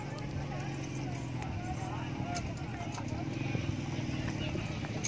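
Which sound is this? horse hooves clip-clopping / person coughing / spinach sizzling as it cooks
horse hooves clip-clopping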